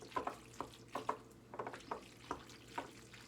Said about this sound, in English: We're gonna mix and mix and mix.